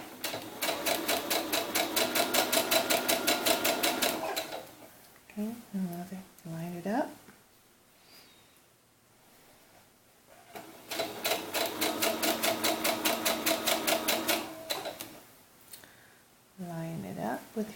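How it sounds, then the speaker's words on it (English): A home sewing machine stitches bias tape onto a doll's sunsuit in two long, fast, steady runs that start and stop abruptly, with someone talking in the quiet gaps between them. "Keep sewing."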